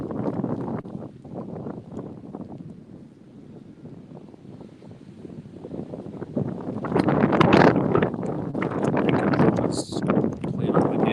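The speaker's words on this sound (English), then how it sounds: "Wind has picked up really badly," Strong gusting wind on a golf course during a club league matchplay final, a steady broadband rush that swells louder in the second half, with people talking under it.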